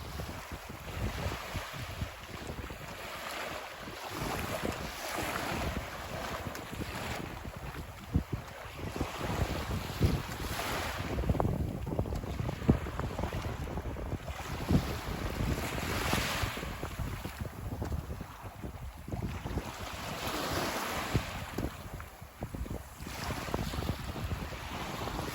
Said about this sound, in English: I'm going to be quiet and let you enjoy some beach time.